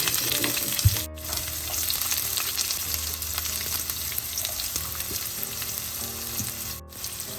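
Mustard seeds, fennel, curry leaves and onion fry in hot oil in a pan for a cabbage stir fry, giving a steady, close sizzle with occasional pops and stirring scrapes.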